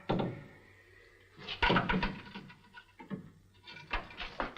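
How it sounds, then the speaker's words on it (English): A wooden door in an old Western setting is opened, with creaks and a couple of bumps as it swings, followed by brief movement sounds at close range; no speech is heard. "Open up that door."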